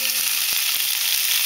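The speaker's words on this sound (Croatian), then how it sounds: "Krumpir ćemo dodati na malo ulja" Potatoes frying in a little oil in a pan, a steady bright sizzle, close and even throughout with a faint clink or two.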